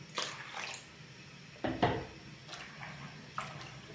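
Herbs being rinsed and swished by hand in a basin of water. Faint splashes and sloshes come in a few separate bursts with quiet gaps between them.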